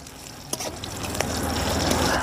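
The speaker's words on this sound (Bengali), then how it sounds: "রসুনটা একটু ভাজা ভাজা করে নেব।" Crushed garlic cloves frying in a pan for a village-style fish and palong greens dish, giving a steady close sizzle with a few sharp spatters and stirring clinks, no talk.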